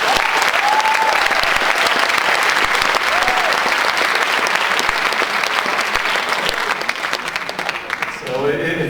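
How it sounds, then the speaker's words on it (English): Audience applause at an evening talk on fighting the media war against Israel, a loud sustained wash of clapping from a packed room that holds steady and only tapers slightly at the very end, with faint voices and whoops mixed in. "I hope they see the applause right here tonight"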